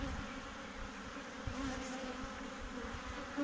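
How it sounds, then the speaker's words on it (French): A swarm of honeybees humming steadily around a hive during a colony visit, a dense continuous drone close to the listener with no talk. "il y a à peu près une bonne population des abeilles qui ne sont pas jeunes"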